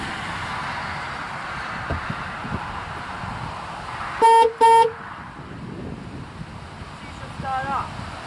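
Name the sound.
car horns of a 1995 GMC Suburban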